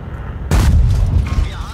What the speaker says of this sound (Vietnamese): Hy vọng là đạn vàng của mình có thể bắn xuyên được tháp pháo của 252U.